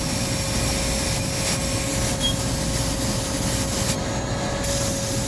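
Continuous loud hiss of sandblasting carbon buildup off BMW X5 intake valves, a steady abrasive rushing with a vacuum running alongside, no voices.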